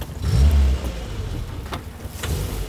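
A Lada 1200 estate or Lada 2106 race car engine blips with a short, deep rev up close, then settles to a lower rumble with faint mechanical noises after, no talk.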